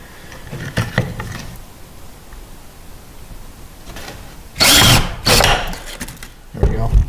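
Power drill boring holes through a Kydex sheet for a knife sheath, short whirring bursts with the loudest pair near the end, over quiet workshop background.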